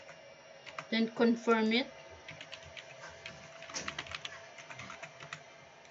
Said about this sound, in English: So then type in the password.